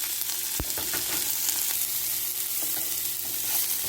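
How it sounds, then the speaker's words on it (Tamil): Onion, peas and coriander sizzle steadily in a hot pan for a vermicelli upma, a continuous close hiss with a sharp clink of a utensil near the start and light stirring scrapes throughout. "இதில் வெங்காயம், கொஞ்சோண்டு பட்டாணி, கொத்தமல்லி இதை போட்டு நல்லா வதக்கிக்கோங்க"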